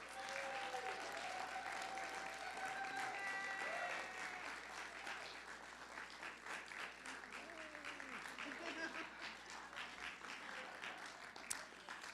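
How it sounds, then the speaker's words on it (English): Congregation applause fills a Sunday church service, a steady wash of many hands clapping for about twelve seconds that eases slightly toward the end, with faint voices mixed in. "let us please give a warm round of applause for Mr."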